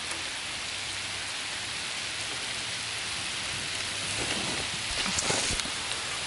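Rain falls on a lake beneath trees as a steady, close hiss of drops that thickens slightly toward the end, with no voices.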